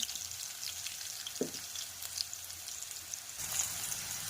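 Cumin, mustard seeds and turmeric sizzle faintly in hot oil for potato fry, a low steady hiss with a few soft pops and a brief clatter.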